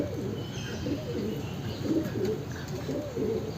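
A heavy black pigeon gives soft, repeated throaty coos up close, a low rolling murmur that carries steadily under a faint background hiss.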